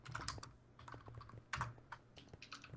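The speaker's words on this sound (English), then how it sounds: "Oh, I'm typing" Keys on a computer keyboard clack in short irregular bursts during a Minecraft factions game session, close and fairly quiet, with one sharper cluster of strokes midway and no talk.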